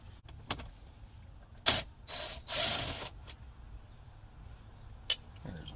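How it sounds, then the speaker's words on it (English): Phillips head screws come out of a 2G DSM car's center console with sharp clicks and a few short ratcheting, rasping turns, separated by quiet pauses. "you're going to want to remove these Phillips head screws"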